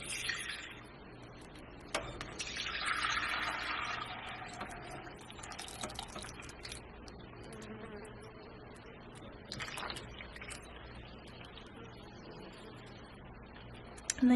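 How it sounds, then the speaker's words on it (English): Whey is poured off homemade cheese from a pot into a mesh strainer, a soft trickling and splashing pour that swells briefly and then thins into quiet drips, faint and close, with a few small knocks. "I'm just going to go ahead and just dump off some of this whey"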